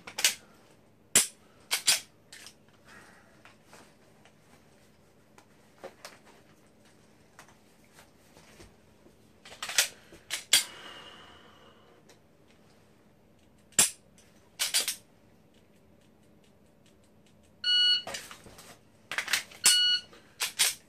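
Sharp metallic clicks and clacks from magazine changes and dry-fire trigger work on a Ruger 10/22 rifle, arriving in scattered isolated bursts with quiet gaps between them and a denser clatter near the end.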